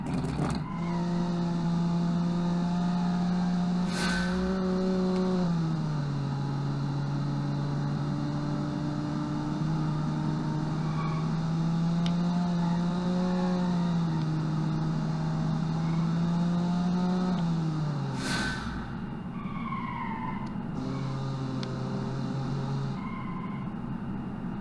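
A rear-wheel-drive economy car driven in the Automation car video game, its engine droning steadily with the pitch rising and falling through gear changes, and two short sharp knocks along the way.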